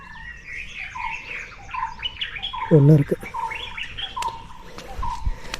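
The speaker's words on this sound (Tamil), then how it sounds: "சின்ன சின்ன தண்ணி இருக்கிற இடத்துல குருவிங்க தண்ணி குடிக்குதுங்க" Small birds chirp and tweet repeatedly around a trickle of water on a rocky mountain pilgrimage path, near and fairly clear, with someone briefly speaking over them midway.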